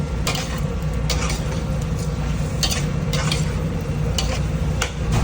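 Bottle gourd guisado (upo) being stirred in a pan, a spatula scraping in repeated strokes over a constant close sizzle, with no talking.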